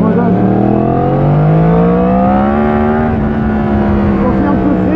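A Yamaha MT10 motorcycle in riding mode A revs up close and loud, its engine note climbing smoothly then holding steady, a rich harmonic roar with a slight dip near the end.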